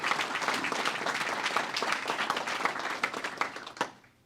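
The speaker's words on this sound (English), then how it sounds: "So let's give Macy a round of applause." Round of applause for Macy from a room of guests at a luncheon, with steady, dense clapping from a sizable indoor audience that ends with a final sharp clap and a quick fade.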